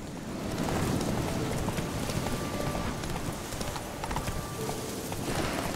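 Horse hooves clip-clop at a steady riding pace in the video game The Witcher 3: Wild Hunt, close and continuous with a faint outdoor ambience behind.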